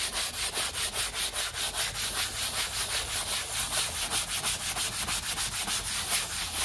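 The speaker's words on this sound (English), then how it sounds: "I'm going to start the scrub here." A surface is scrubbed clean with a cleaning product, giving rapid, rhythmic rubbing strokes that repeat close up and steadily throughout, with no voice.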